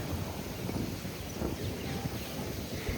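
Steady outdoor wind buffeting the microphone, a low rumbling gust that stays fairly constant throughout, with no voices.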